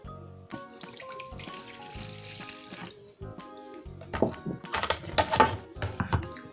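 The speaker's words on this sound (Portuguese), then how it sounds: "Agora eu vou colocar a água na iogurteira." A glass of water is poured into a yogurt maker in a home kitchen: a steady splashing pour that grows louder and more turbulent toward the end, heard close with no talking.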